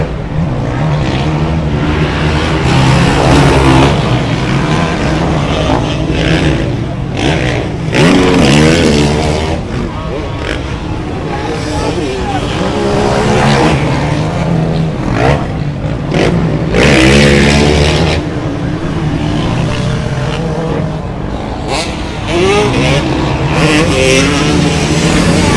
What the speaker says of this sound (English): The 252 stroke, 2019 version from Husqvarna, the only one in Manitoba currently under Ryan Miller.